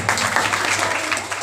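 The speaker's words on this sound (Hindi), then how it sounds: "वेरी गुड, जरा जोरदार तालियां।" Audience clapping at a Khatu Shyam bhajan sankirtan, a steady dense burst of applause from a crowd filling the moment, close and fairly loud.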